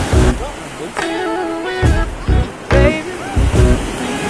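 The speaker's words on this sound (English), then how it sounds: "We're finally at the beach." Ocean waves wash onto a beach in Cinque Terre, Italy, a steady surf roar beneath people talking and laughing nearby.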